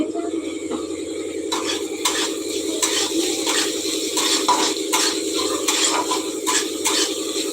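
Mutton kosha cooks in a pot as a utensil stirs and scrapes against the metal, with soft sizzling and clinks over steady kitchen background, close and continuous.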